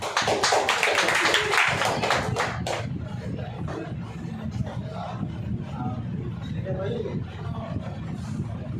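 A classroom of students claps hands in a fast burst of many overlapping claps for about three seconds, followed by a murmur of voices and a teacher talking.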